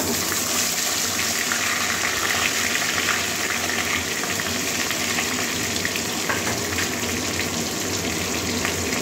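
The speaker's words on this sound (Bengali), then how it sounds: "এবারে মাছের মাথাটা ভেজে নেবো।" A katla fish head frying in hot oil in a heated kadai gives a loud, continuous close-up sizzle with a steady crackling hiss that never lets up.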